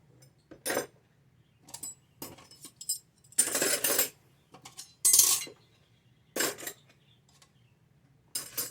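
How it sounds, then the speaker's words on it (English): Silverware clattering into a bowl while doing dishes by hand, several separate bursts of metallic clinking and rattling with quiet gaps between, close and fairly loud. "So I take this bowl. I put all the silverware in there."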